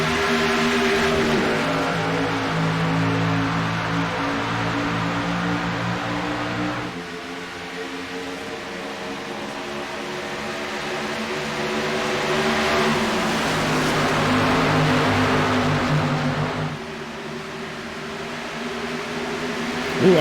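Race cars accelerate in a racing video game just after the green flag, engine notes climbing and shifting through gears in loud, sustained drones that dip and rise again, with no talking.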